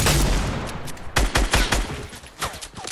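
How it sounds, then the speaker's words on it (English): Video game gunfire, a dense volley of loud, sharp shots at the start followed by scattered single cracks and short bursts, some close and some more distant. "Why am I the one getting shot at?"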